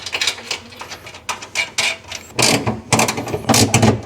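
A socket wrench ratchets M6 bolts tight on a budget kitchen drawer fitted in a BYD Shark 6 ute: bursts of close, rapid clicking come in uneven runs, growing louder and denser in the second half.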